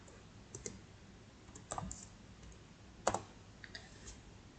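Soft, sparse keystrokes on a computer keyboard while typing Java code, a few quiet close clicks spread irregularly over a low room hiss.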